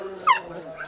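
A puppy lets out a single short, high yip amid quiet surroundings, a brief close whimpering cry lasting well under a second.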